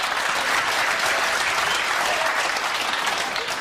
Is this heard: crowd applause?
yes